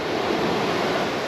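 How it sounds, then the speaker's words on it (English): Wind buffets the microphone on South Beach, Miami, a loud, steady broadband roar with no voices. "The wind's picked up"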